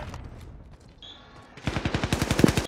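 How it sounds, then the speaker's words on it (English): Gunfire in the video game Call of Duty Warzone: after a quiet stretch, a fast burst of automatic fire starts and runs to the end, with closely spaced, fairly loud shots. "I'm getting shot like a motherfucker."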